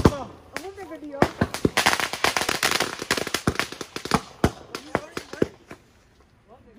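Bonfire Night fireworks and firecrackers banging outdoors in a dense crackling barrage of sharp loud reports, some close and some further off, then thinning out toward the end, with voices shouting amid the noise.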